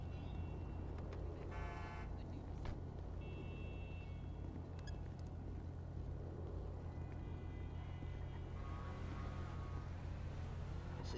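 A V8 car engine idles steadily at an outdoor car show, a constant low rumble with a few brief higher tones over it.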